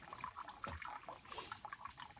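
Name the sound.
spring water welling up into the Tietê River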